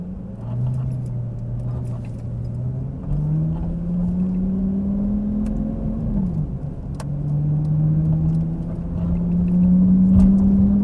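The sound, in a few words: Lamborghini Gallardo Superleggera engine while driving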